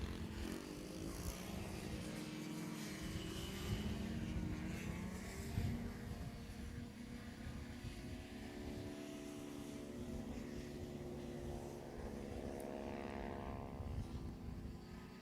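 A racing hovercraft with a four-stroke engine, leading on the last lap at a hovercraft race meeting on a farm track, drones loudly and steadily as it passes, with a shifting engine tone and other engine noise in the background.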